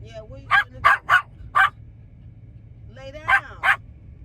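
Inside a van, a pet dog lets out four loud, close barks in quick succession, falls quiet briefly, then gives two more sharp barks over a low background hum.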